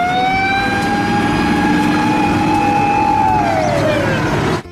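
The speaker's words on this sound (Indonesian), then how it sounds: "Ini adalah mobil pemadam kebakaran." A toy fire engine's siren wails loud and close in a steady, continuous electronic tone, then sweeps downward in pitch before cutting off abruptly.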